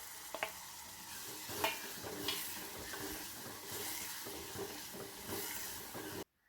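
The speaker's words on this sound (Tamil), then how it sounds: "வெங்காயம், தக்காளி, பூண்டு எல்லாமே நல்லா வதங்கி வந்துடுச்சு." Chopped onion, tomato and garlic sauté in a clay pot, giving a soft continuous sizzle broken by occasional stirring scrapes and taps, close and fairly quiet, ending abruptly.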